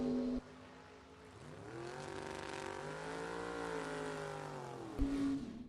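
Ford Mustang at a bracket drag race, its engine revving hard and climbing in pitch as it launches down the strip, a loud, steady roar sustained for several seconds with a sharper burst near the end.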